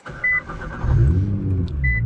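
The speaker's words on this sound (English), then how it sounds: "Car roars to life" A 600 wheel-horsepower Nissan GT-R with an Armytrix exhaust cranks and catches, settling into a loud, low rumble close by, with a couple of short electronic beeps before and after.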